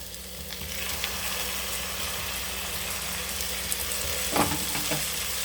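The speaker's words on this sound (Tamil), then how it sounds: "இந்த ஸ்டேஜில் தக்காளியை நறுக்கி போட்டுருவோம்" Chopped tomatoes frying with sautéed onions in a pan for mushroom biryani, a steady close sizzle with occasional stirring scrapes and a brief clatter near the end, no talk.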